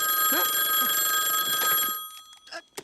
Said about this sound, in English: play the clip, Ryan, when Max answers the phone in the morning of the original Goofy movie